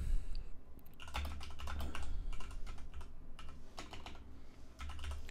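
A password being typed on a Mac M1 computer keyboard: rapid, close key clicks in uneven bursts with short pauses, over a low background hum, no speech.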